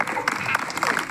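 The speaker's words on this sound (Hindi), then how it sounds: "बजाओ इस पे ताली, बोलो।" A crowd claps at a rally-style speech, with steady applause mixed with voices and cheering.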